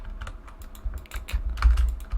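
Computer keyboard keys are hammered rapidly in an irregular clatter of close, sharp clicks and thumps while a PC game is played, with no speech.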